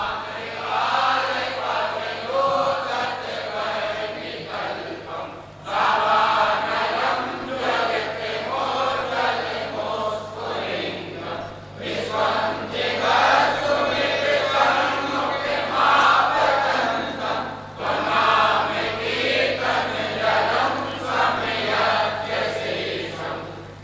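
A large crowd loudly recites a Jain hymn in unison, rhythmic chanted phrases in several long bursts separated by short pauses, with a steady low hum underneath.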